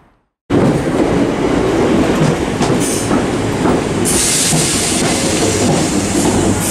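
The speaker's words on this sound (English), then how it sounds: "arriving here is 319382, arriving in on the 1459 Northern service to Manchester Airport from Blackpool North" A Northern class 319 electric train rolls into Manchester Piccadilly station, a loud sustained rumble of wheels on rails with clickety-clack and brief high squeals of braking, close and continuous after a short silence.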